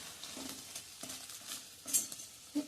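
Onion sautéing in a pan for idli upma, with soft stirring scrapes and a quiet, steady sizzle, plus a few brief utensil clinks near the end.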